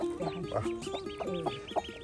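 A hen clucks in a village yard with her newly hatched ducklings, giving a series of short, close, rhythmic clucks with soft peeps mixed in.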